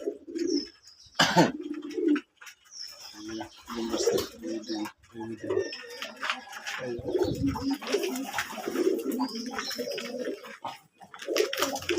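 Jalali pigeons cooing in a sunny morning farm, repeated soft nearby coos and throaty calls with someone talking over them.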